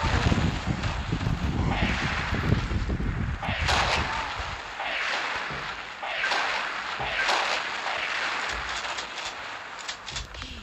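Gunfire in a zombie shooter video game, heavy rumbling blasts and booming shots in a dense burst at first, then spaced loud bursts over a roaring background.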